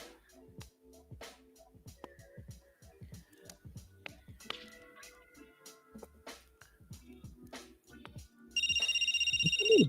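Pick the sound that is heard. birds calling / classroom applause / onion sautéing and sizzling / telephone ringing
telephone ringing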